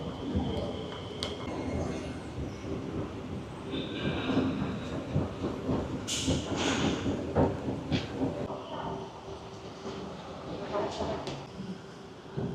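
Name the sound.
MRT metro train arriving at Kranji station, Singapore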